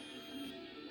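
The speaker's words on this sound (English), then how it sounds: "and then you can actually hear it. It's beeping." Beeping alarm from a grill temperature monitor during a brisket cook, a steady electronic tone held close and continuous across the moment with no talk over it.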